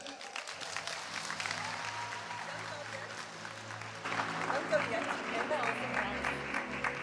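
Sustained audience applause at a youth event, dense steady clapping throughout that swells louder about halfway, with a few cheers and voices mixed into the crowd noise.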